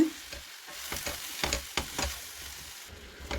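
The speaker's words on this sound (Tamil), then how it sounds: "லிட் ஓப்பன் பண்ணி நாங்கள் கத்திரிக்காயும் போட்டுக்கொள்வோம் கொஞ்சம் பிரட்டி விட்டுட்டு" Oil sizzles steadily in a pan while a spoon scrapes and stirs pieces of frying eggplant in quick, irregular strokes.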